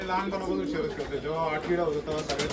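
Old Gauran pigeons coo continuously up close, their rich throaty calls rising and falling over a low background murmur.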